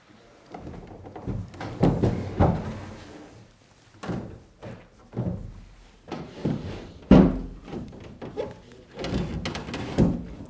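Drawers in an old abandoned villa are pulled and tried one after another, giving a run of close wooden thunks, knocks and rattles at an uneven rhythm, with brief pauses between attempts and no talking.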